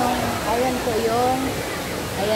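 Mahihay Falls pours in a constant broad rush of water that fills the scene, with voices talking over it nearby.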